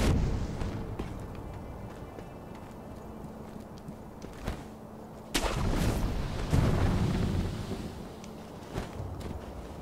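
Several booming cannon shots in the video game Sekiro: Shadows Die Twice, some sharp and some rumbling, fired irregularly over steady background noise, with one louder blast near the middle.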